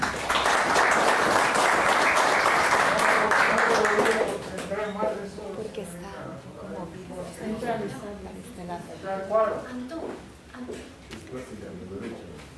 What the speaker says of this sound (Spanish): Por favor, la recibimos con un gran aplauso